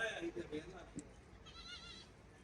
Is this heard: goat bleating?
yes